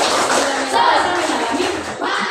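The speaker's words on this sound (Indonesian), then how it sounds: "Sekarang tepuk semangat." Students in a classroom clap together in a rhythmic 'tepuk semangat' icebreaker, loud and close, with voices mixed into the clapping.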